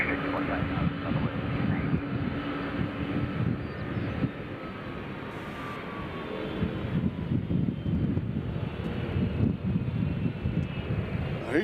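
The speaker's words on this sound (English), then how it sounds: "I think I just heard Amazon turn their engines off." An Amazon cargo plane's engines wind down at Nashville International Airport, a broad roaring jet whine with falling tones under steady wind noise, heard from a distance.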